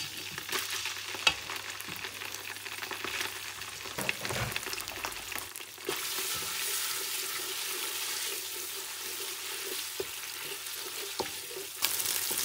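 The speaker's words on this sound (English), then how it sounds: "So after I fry the tomato for small time, I'll add the sauce." Tomato sizzles steadily while frying in a pan for a spinach sauce, a continuous crackling hiss with a few soft clinks of stirring, no voices.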